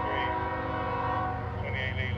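A CSX freight train led by a locomotive sounds a sustained horn while passing on the Wilmington Sub in Pembroke, North Carolina, a steady chord heard from moderate distance over a low engine rumble.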